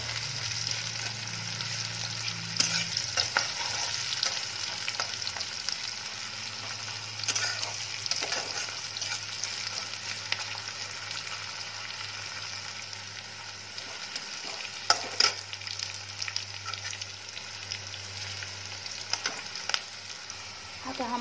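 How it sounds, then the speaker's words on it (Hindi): Chopped onions sizzling and frying in a pan on the stove as a paneer curry is started, a steady close crackling hiss throughout with occasional stirring scrapes and pops, no speech. "तो इसको हम फ्राई कर लेंगे जब तक ये ब्राउन नहीं हो जाता"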